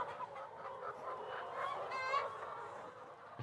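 Chickens clucking inside a mobile range coop on pasture, a busy close flock of soft clucks and squawks overlapping continuously at moderate volume, no talk.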